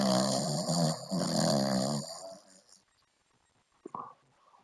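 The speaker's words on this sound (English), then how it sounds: "He does snore like this." Sims character snoring in The Sims 4, heavy rumbling snores in two long breaths, fairly loud and close, then a quiet gap with faint game sounds.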